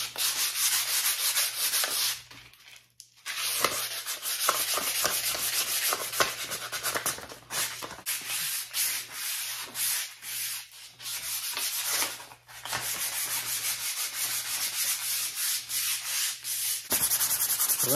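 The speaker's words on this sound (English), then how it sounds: "we have 150 grit sandpaper. We're just gonna go through and just rub this thing down really good." Steady, close back-and-forth scraping as 150-grit sandpaper rubs down a wooden axe handle, continuing for a long stretch with a few brief pauses.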